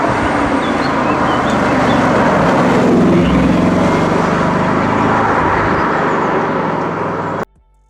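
A Bugatti Chiron Super Sport with an upgraded exhaust roars in a loud, continuous drone that swells midway and holds steady before cutting off abruptly near the end, with no voices.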